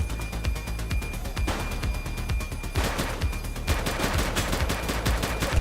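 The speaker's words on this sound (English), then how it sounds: "Shots fired!" Rapid gunfire in a police shootout in The Precinct video game, with dense bursts of automatic shots that rattle on without letup, loud and close.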